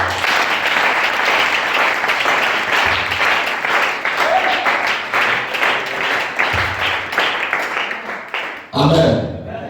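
A church congregation at a Sunday service applauds steadily and loudly, dense clapping filling the space with voices mixed in, then breaking off near the end.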